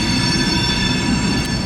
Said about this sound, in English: off to the right there is a local train that backed into a customer here